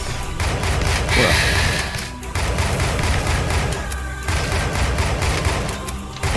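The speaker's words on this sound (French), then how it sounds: "Ah là, je tire en rafale" Loud, dense bursts of rapid gunfire in Tesla vs Lovecraft fill the stretch almost without pause, with brief breaks between volleys and heavy booming underneath.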